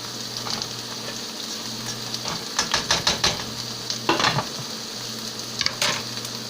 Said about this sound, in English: The rice is stirring.